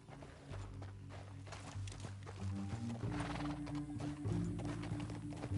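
Horse hooves clop along steadily over a rumbling soundscape in Red Dead Redemption 2, close and rhythmic, with no talking.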